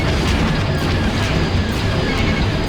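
Missile explosion in the space combat game Star Wars: TIE Fighter, a dense, loud, continuous rumbling boom filling the whole stretch with low-end roar and crackle, no voices.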